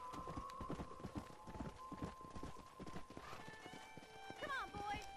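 Horse hooves clip-clop steadily at a near, moderate volume beside a corral in the video game Red Dead Redemption, with a whinny near the end and talk over it.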